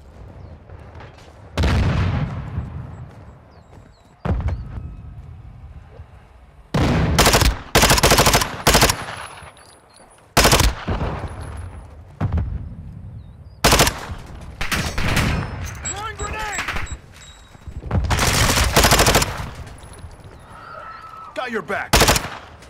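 Gunfire in a Call of Duty team deathmatch: loud bursts of automatic weapons fire in repeated clusters with booming shots, mixed with voice chat and in-game callouts throughout.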